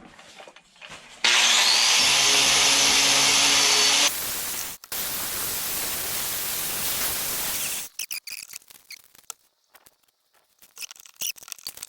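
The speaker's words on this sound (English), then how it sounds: "I'm going to sand that down just a little bit" A wooden largemouth bass carving is sanded in a loud, steady raspy burst for a few seconds, then a softer continuous scrubbing follows before fading into scattered light rubbing and handling noises.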